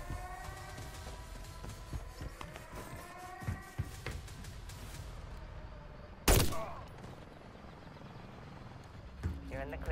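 Unsuppressed full-auto gunfire in the Modern Warfare 3 campaign: rapid weapon fire and scattered shots in a busy battle mix, one sharp loud blast near the middle, with speech over the action.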